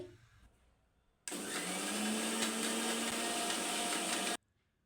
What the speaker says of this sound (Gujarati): આ રીતે આપણે મિક્સર ફેરવી લેવાનું એક આપણે થોડીક વાર માટે